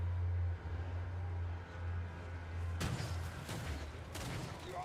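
Artillery firing in the Total War Warhammer III battle game, a few sharp booming reports in the second half, sounding close and loud over a low steady battlefield rumble, with no voices.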